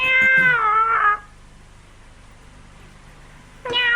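A cartoon anime character mimicking a cat with a drawn-out, wavering voiced meow, then a short second meow after a quiet gap, close and clear.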